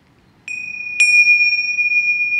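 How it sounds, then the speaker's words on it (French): Two bright metallic gong or bell strikes land about half a second apart, the second louder, each ringing out with a clear sustained tone that lingers and slowly fades. "Double gong, double gong."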